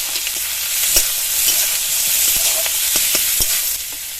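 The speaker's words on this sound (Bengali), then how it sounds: "পেঁয়াজ রসুনটা হালকা একটু ভেজে নিয়েছি।" Chopped onion, garlic and green chilli frying with cumin in hot mustard oil in a kadai: a loud, dense, continuous sizzle close up, with occasional stirring clicks and no talking.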